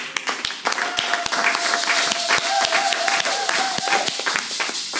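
A church congregation at a Sunday service breaks into loud, sustained applause and cheering for Jesus, with dense clapping and a voice wailing a long high cry over the crowd.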